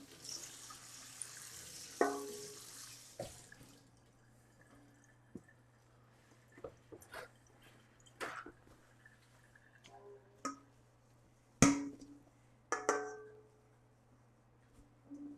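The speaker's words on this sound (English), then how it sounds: "Give it a rinse." Tap water runs and splashes as a bowl is rinsed in a kitchen sink, with faint drips and several sharper clinks and splashes rising above a quiet background.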